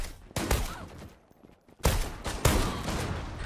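M3 pump shotgun firing in the game Zula, with two or three loud, sharp blasts separated by short gaps, each trailing off into a brief decay.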